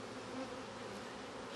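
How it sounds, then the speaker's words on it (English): Honey bees buzz in a dense, continuous drone right at an open hive frame, steady and close with no pauses. "See that bee there?"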